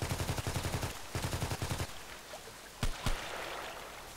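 Rapid bursts of automatic gunfire in Contract Wars, a first-person shooter on the Lighthouse map, rattle in two quick volleys, then two sharp single shots ring out over a steady background hiss.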